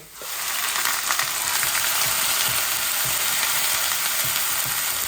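Grated onion frying in oil for a fish curry, giving a loud, dense, close sizzle with faint scraping stirs beneath it, steady and continuous throughout.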